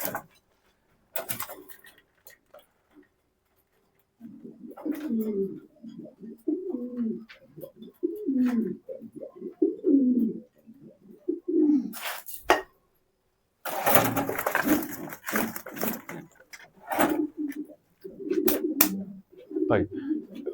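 Pigeons coo close by in a run of soft, rounded, repeated calls, broken by pauses and a few louder rustling or engine-like bursts, with a voice speaking at times.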